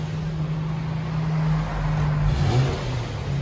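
A 2013 Infiniti G37x with a 3.7L V6 and dual exhaust fitted with bottle-style resonators, idling with a steady low drone and then revving up briefly near the end, loud and close.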